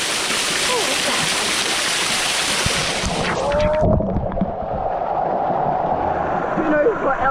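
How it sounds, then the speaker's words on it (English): Waterfall at a waterhole on the Gold Coast, Australia, a loud, dense rush of falling water up close that thins out halfway through into a quieter, muffled wash, as if heard from beneath the falls. "time for me to go underneath the waterfall"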